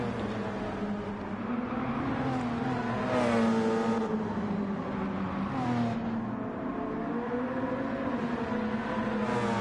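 Race cars lapping a grass-edged circuit at Lago Maggiore, a Porsche among them, their engines droning and rising in pitch as they pass at moderate distance, a steady mechanical hum throughout.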